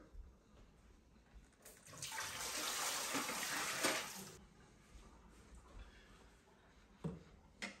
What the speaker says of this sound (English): now it's getting the water with the full flow